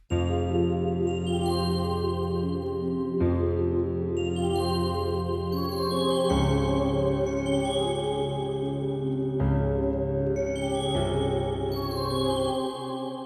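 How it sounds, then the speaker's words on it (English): A dark melody built in FL Studio plays alone, a main lead line over low piano notes, with sustained chords that shift every few seconds and a steady, full loudness throughout. "So with the main melody and the low piano notes we laid down before, it sounds like this"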